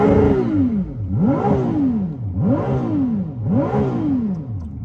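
A Ferrari 296 GTB engine revs loud and close in four repeated rising-and-falling sweeps, each climbing in pitch then dropping back, heard from inside the car with a steady mechanical drone underneath and no talking.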